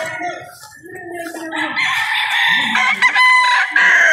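A golden gamefowl rooster at a Philippine game farm crows nearby and loudly, with clucking and other fowl sounds around it and some brief voices in the background.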